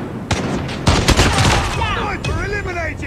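Sniper rifle shots ring out in Call of Duty Mobile played on PC, several sharp loud cracks in quick succession amid game effects, with someone talking excitedly over the gunfire.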